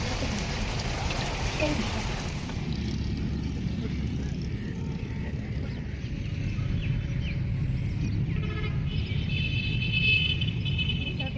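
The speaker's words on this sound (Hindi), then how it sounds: "बारिश ये देखें कितनी हौले हौले तेज़ होती जा रही है" Rain falling outdoors, a dense steady hiss of drops on surfaces that fills the scene and grows fuller over time, with a voice faintly talking underneath.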